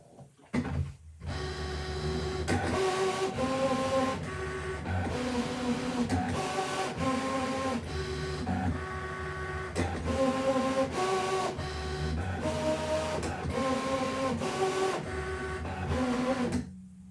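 Brother ScanNCut cutting machine draws with a pen on fabric, a steady whirring motor hum with repeated shifting tones and clunks as the carriage moves back and forth, continuous and close.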